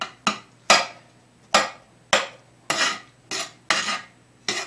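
A spoon scrapes and mixes hamburger and butter into a cornbread mixture in a bowl, making eight or so distinct close scraping strokes at a steady rhythm, with no voices.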